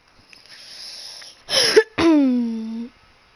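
A person coughs and clears their throat loudly and close up: a short rough burst, a brief pause, then a longer strained, voiced throat-clearing sound.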